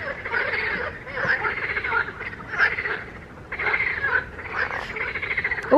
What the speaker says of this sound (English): Oh, heard a frog then as well.